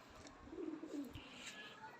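Kasuri pigeon kept for breeding, a low rolling coo rising and falling twice near the middle, faint and close, with soft background chirps and rustle.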